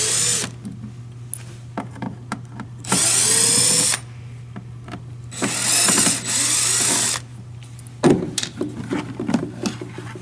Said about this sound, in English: So I'm going to start off taking off the outside screws.